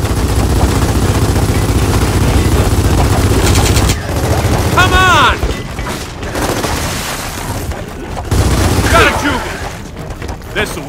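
Heavy gunfire in the video game Gears of War 4, sustained loud bursts and booming shots with brief pauses, shouted voices and combat chatter over the firing.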